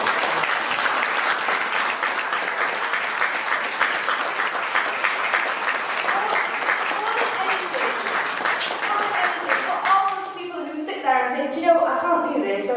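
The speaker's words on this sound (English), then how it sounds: "So let's give him a huge round of applause" Audience applauding at a book launch at The Lit & Phil in Newcastle: dense, sustained clapping from a crowd for about ten seconds, then fading out as a few scattered claps and a voice begin near the end.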